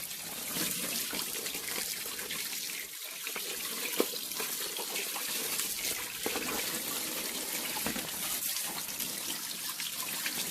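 Continuous splashing and trickling of water poured from a mug onto a mat being cleaned, steady and close, with a few brief louder splashes.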